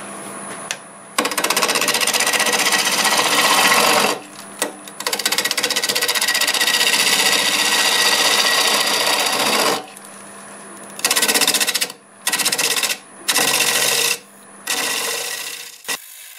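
Wood lathe turning a piece of apple wood at about 930 RPM, giving a loud, steady rasping cut that runs for several seconds, then breaks into short bursts of scraping separated by brief pauses.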